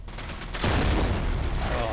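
Dense, continuous rapid-fire bursts from an enemy nail gun in the shooter game F.E.A.R., loud and close, swelling after a brief lead-in and rattling on without a break.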